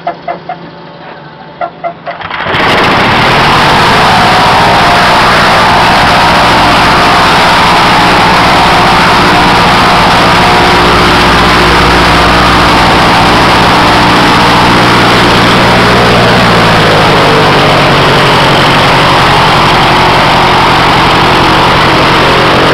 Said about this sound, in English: This engine is very, very smooth compared to the old Briggs and Stratton.